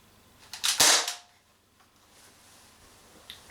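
An Umarex HK MP5K CO2 airsoft gun fires a single sharp shot of a BB, a crisp pop with a short gassy hiss trailing off, then near quiet with a faint click afterward.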